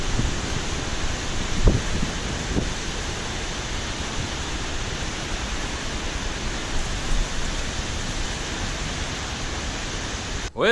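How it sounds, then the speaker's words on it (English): Rain falls steadily outdoors, a dense broadband hiss that stays even throughout, with a couple of faint knocks early on and a brief disturbance right at the end. "Well, been having more rain."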